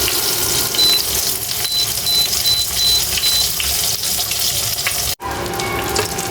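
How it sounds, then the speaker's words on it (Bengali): Eggplant slices frying in very hot oil in a pan give a steady, loud, continuous sizzle with no talk, followed by a brief break near the end before the hiss resumes. "তেলটা অনেক গরম হয়ে গেছে, একটু কমাই দেয়।"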